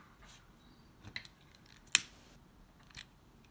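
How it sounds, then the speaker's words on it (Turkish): Scissors snip paper for a poppy flower craft with a few short, sharp, close-up cuts, one crisp clip standing out louder than the rest in a quiet room. "Kesiyorum."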